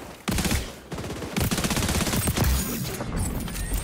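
Rapid automatic SMG fire from the shooter game XDefiant, dense crackling bursts that start after a brief pause and run almost continuously, loud and close, with short gaps between volleys.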